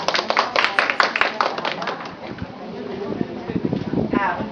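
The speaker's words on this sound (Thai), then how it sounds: "ปรบมือให้ตัวเองอีกครั้งหนึ่งค่ะ" A classroom of schoolchildren claps for themselves, their scattered, uneven hand claps rattling along under a teacher's voice that keeps talking throughout.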